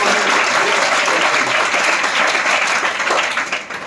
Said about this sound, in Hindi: तो एक बार जोरदार ताली बजाइए।